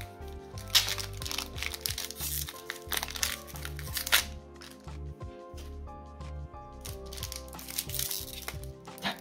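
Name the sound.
opening a Pokémon booster pack, wrapper crinkling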